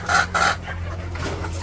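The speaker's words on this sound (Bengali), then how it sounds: "এই কটা মোরগ ঝগড়া করে" Village roosters squabbling, sharp close squawks and clucks in two quick bursts followed by quieter fowl calls over a low steady hum.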